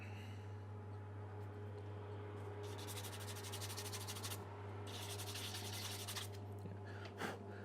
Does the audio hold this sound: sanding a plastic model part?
yes